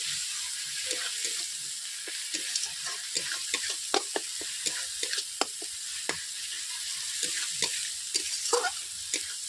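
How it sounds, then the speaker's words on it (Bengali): Spices for aloo posto frying in a pan, a steady close sizzle broken by repeated sharp scrapes and clicks of a spoon stirring through the masala for several seconds. "এবারে মশলাটা আমি 5 মিনিট কষে নেব সব উপকরণ দিয়ে।"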